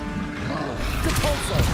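Depulso spell effect from Hogwarts Legacy: a loud, sustained magical whoosh and rumbling blast that swells partway through, with a voice overlapping it.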